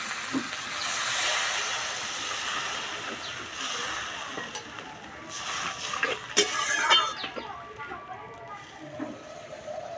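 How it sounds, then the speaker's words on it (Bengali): Fish curry broth with tomato sauce, spices and water boiling in a pan, a steady bubbling hiss with crackles rising toward the middle of the clip, no talk. "ঝোল ফুটে গেছে"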